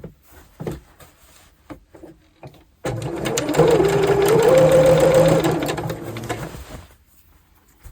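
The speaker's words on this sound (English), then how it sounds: "So I'll sew around that as well" A sewing machine stitches a skirt, starting with a few light taps. Then comes a loud, steady whirring run of about four seconds, close by, before it stops again.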